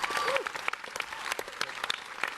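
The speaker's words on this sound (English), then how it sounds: "Why don't we applaud that?" A theater audience at a Buffy the Vampire Slayer reunion panel at Paleyfest claps steadily for a couple of seconds, a close, lively burst of applause with scattered voices mixed in.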